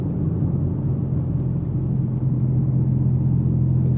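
Mitsubishi Evo X with SST dual-clutch transmission slowing and downshifting, heard from inside as a steady low engine rumble and drone, close and fairly loud with no distinct revs.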